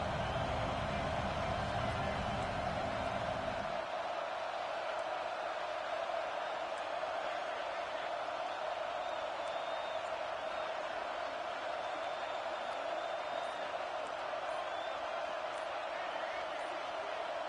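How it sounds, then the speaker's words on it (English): A stadium crowd roars at a football game during a fourth-down defensive stand, a loud sustained wall of cheering that holds steady throughout, with a brief burst of low rumble at the start. "This crowd busting the decibel meter and trying to will a fourth down stop"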